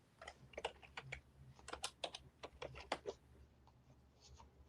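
Quick bursts of computer keyboard keystrokes, faint and close, tapping out a short word in irregular clusters over a low background hum.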